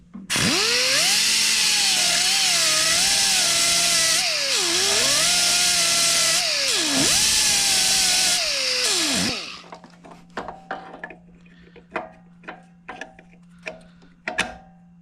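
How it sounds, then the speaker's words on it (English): A power tool trims material off a Serveta Performer stator, running loud and steady with pitch dips under load for about nine seconds, then stopping and leaving scattered clicks and taps. "I trimmed a little material off the stator"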